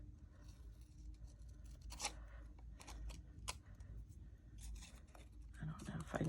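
Scissors trim the excess from a paper journaling card in a few faint, quick snips and rustles, with quiet talking underneath.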